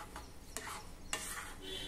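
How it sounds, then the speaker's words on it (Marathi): A spoon stirs jaggery into water in a cooking pot to melt it, giving faint, soft scraping and swishing strokes in a few short bursts in a quiet kitchen. "या प्रकारे ढवळत राहा।"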